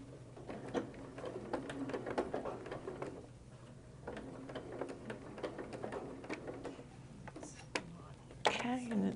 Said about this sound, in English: we can manipulate this one as it goes through the machine